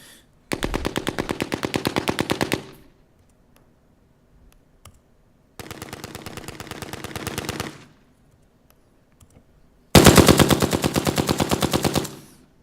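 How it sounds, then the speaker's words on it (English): Recorded incoming gunfire as heard from the receiving end: three sustained bursts of rapid automatic fire, each roughly two seconds long, the last the loudest, separated by near-silent pauses. "That's what it sounds like when you're being shot at."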